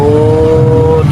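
Steady engine of a Caterpillar 777E haul truck held at high revs during a brake test, a loud continuous drone with a strong low hum throughout.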